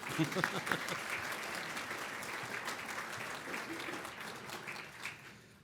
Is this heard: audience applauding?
yes